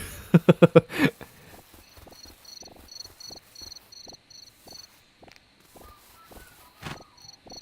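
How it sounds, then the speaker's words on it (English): Crickets in the video game Dinkum chirp in short, high, evenly repeated trills amid soft footsteps and a few louder clicks, with game ambience in the background. "A cricket makes that sound?"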